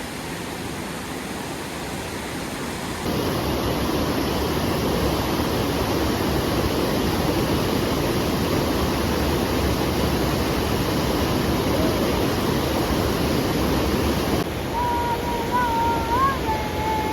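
Steady broadband rush of flowing creek water at the Forks of Red Creek in the Dolly Sods Wilderness, continuous and fairly loud, with a faint bird call near the end.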